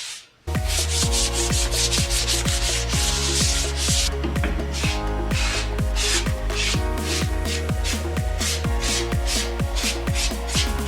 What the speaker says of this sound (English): I'm just going to go ahead and lightly sand the whole table with the 220 sanding sponge